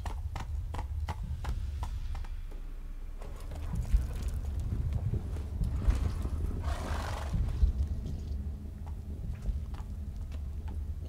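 Horse hooves clopping in a steady walking rhythm in the Witcher 3 video game, close and continuous, with scattered sharper knocks and a brief soft whoosh partway through.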